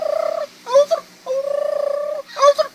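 A person imitates a domestic turkey's gobble, with rapid warbling trills alternating with short bursts, alone and fairly close.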